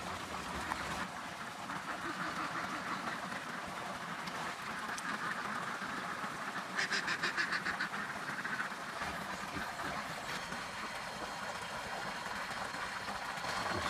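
Ducks quacking faintly at a distance, with a short burst of rapid quacks midway through over a low, steady background hum.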